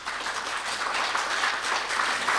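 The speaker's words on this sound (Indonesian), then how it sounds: "Kita berikan tepuk tangan yang meriah dong" A church congregation at a worship service applauds in a dense, even wash of clapping that holds at a constant level without breaks.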